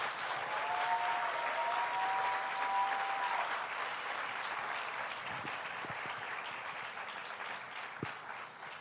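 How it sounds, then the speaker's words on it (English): A room full of people claps together in sustained applause that gradually thins out toward the end. "Let's just commemorate them with one round of applause"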